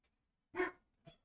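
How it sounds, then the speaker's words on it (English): Dogs barking as a visitor arrives indoors, one sharp nearby bark followed by a shorter, softer second bark, otherwise quiet. "So excuse my dogs"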